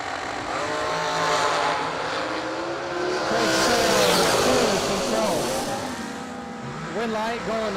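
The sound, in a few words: drag racing dragster run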